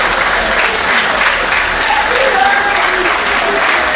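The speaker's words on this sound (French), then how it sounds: "que nous applaudissons bien fort" A municipal-election crowd applauds loudly and steadily, a dense wash of clapping throughout, with an announcer's voice faintly underneath.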